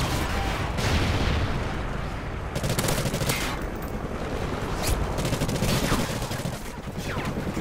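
Sustained automatic gunfire in Call of Duty: Ghosts, with dense overlapping bursts and rattling volleys that keep going across the whole stretch, loud and close with brief lulls between strings of shots.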